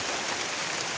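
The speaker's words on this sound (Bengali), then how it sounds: "বৃষ্টি নামছে তো" Rain falls by a riverbank as a brief, steady wash of hissing drops, close and even, with no voices.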